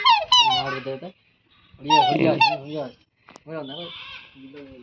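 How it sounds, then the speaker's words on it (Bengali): Chickens and a rooster squawk and cluck loudly nearby in short bursts separated by brief pauses. "আর এখানে রয়েছে মোরগ"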